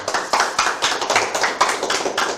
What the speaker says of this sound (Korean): 다시 한번 박수 치겠습니다.